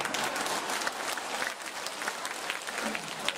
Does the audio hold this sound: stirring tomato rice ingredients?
no